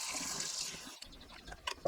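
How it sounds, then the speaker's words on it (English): Lukewarm water poured for proofing yeast for pizza dough makes a steady close splash for about a second, then breaks into short trickles and drips. "half a cup of lukewarm water."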